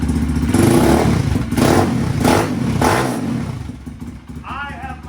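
Pitster Pro FSE 190 dirt bike, new out of the box, idling with a loud, steady low engine rumble and a few rhythmic throttle pulses, then a faint higher whine near the end.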